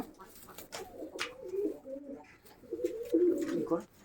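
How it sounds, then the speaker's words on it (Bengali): Giribaz pigeons for sale coo close up in repeated low rolling phrases, loud and clear, with someone talking briefly around them. "এটা নর পায়রা আছে"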